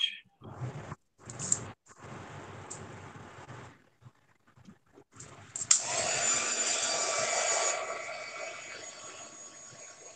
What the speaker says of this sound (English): Okay, heat gun. Heat gun alert.